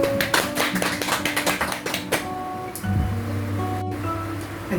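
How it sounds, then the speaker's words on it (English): Scattered clapping for teachers at a virtual school completion ceremony, irregular claps in the first couple of seconds, then a sustained steady tone and hum take over with no voices. "let us show our respect and applaud our teachers"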